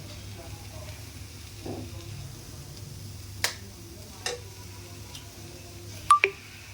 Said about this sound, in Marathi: आता यामध्ये अंडे फोडून टाकायचे